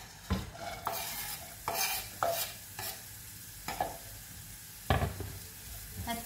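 Chopped onion frying in oil as a spoon stirs and scrapes through the pan, a low steady sizzle broken by repeated rough scraping strokes at irregular intervals, close and quiet, with no talking.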